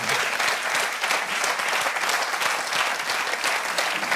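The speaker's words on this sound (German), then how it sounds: "Herzlichen Applaus für Rebecca." A studio audience at a German talk show breaks into loud, sustained applause, a thick even roar of many hands clapping with no pause across the stretch.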